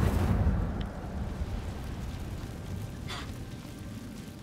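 An Incendio fire spell is cast in the video game Hogwarts Legacy, a soft whooshing burst that fades into a low rumbling roar, with a faint sparkle midway, quiet and alone without talking.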